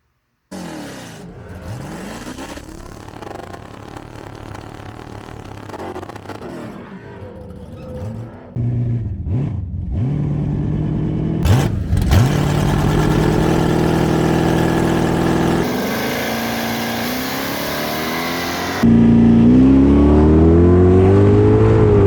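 A nitrous big block drag car idles with a lumpy rumble, revs, then roars louder and steadier as it accelerates hard down the strip, finishing in a sustained high-pitched howl.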